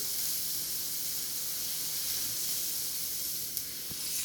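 Steak searing in a hot pan gives a steady, bright sizzle that holds even and close throughout, with one small pop near the end and no voices.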